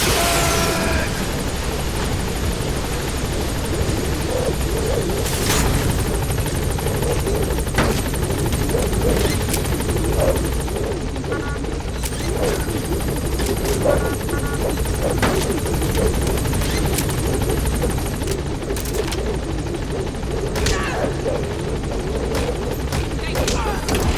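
A helicopter in the game Metal Gear Solid V: The Phantom Pain drones with a continuous loud rotor roar, broken by sharp bursts of gunfire, while voices speak over it.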